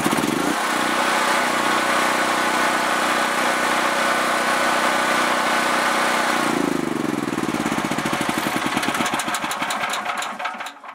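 A generator engine with an automatic choke runs loudly nearby: a steady mechanical drone that shifts in tone partway through, then chugs unevenly and fades out at the end, with no speech.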